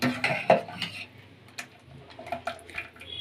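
Utensil stirring and scraping through raw fenugreek gojju in a pot, a few soft uneven clinks and scrapes, close and fairly quiet, with no talking.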